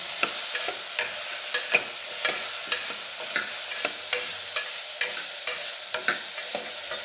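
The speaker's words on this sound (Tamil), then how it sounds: "இது நல்லா எண்ணெயில் ஒரு வதக்கிடணும்." Small cauliflower florets sauté in hot oil, a steady bright sizzle broken by regular scraping stirs about twice a second, close and continuous with no talking.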